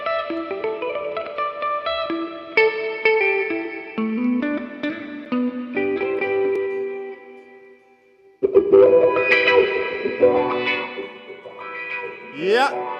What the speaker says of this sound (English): he has some reverb on that one